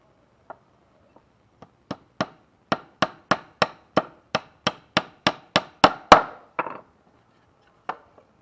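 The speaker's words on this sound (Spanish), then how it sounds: "ahí clavamos esa parte, giramos" A hammer drives nails into a wooden picture frame: about fifteen sharp close knocks in a steady rhythm, starting light, growing louder, then a final isolated tap after a pause.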